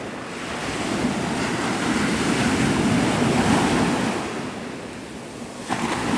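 Ocean surf at Navarre Beach, Florida, rolls in as a steady, broad wash of breaking waves with wind buffeting the microphone, swelling slightly mid-clip and easing near the end, with no voices.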